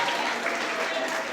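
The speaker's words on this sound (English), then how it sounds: "Keep the claps coming." An audience claps steadily at a primary and infant school leaving ceremony, with continuous dense applause and voices mixed in.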